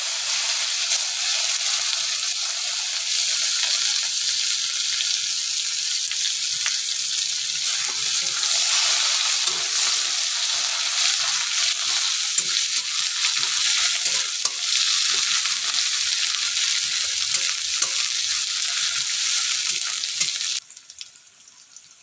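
Onions fry loudly in hot oil seasoned with cumin and bay leaves, a dense, steady sizzle with faint crackles that continues without a break and then drops off abruptly near the end.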